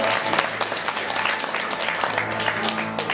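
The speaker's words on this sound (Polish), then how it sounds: "To jeszcze raz gorące brawa." Warm applause from an audience at a local women's honours ceremony in the Mielec commune, steady dense clapping filling the whole stretch, close and loud.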